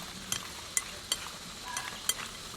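Fish bones are being mixed with scallion, ginger, cooking wine, salt and oil, giving a few light, sharp scraping and clinking stirs spaced apart against quiet, faintly hissing background.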